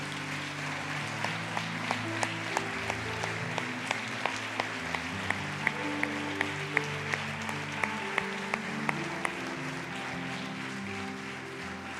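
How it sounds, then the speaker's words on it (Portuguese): Church congregation applauding during a worship service, a sustained roar of clapping over a held organ-like musical backdrop, with occasional sharper individual claps poking through, steady for the whole stretch. "você desse um grande aplauso a Jesus pela vida dos que estão trabalhando."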